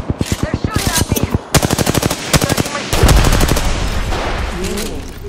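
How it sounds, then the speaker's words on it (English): Rapid automatic gunfire aimed at the player in a Mirage match, loud and close, in repeated quick bursts followed by a heavier blast and lingering noise. "They're shooting at me."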